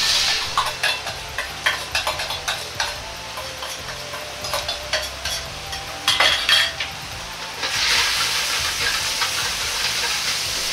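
Flavored sauce heating toward a boil in a pan, with a steady steamy hiss and bubbling, a run of clinking utensil taps early on, then a louder rush of sizzle near the end, no speech.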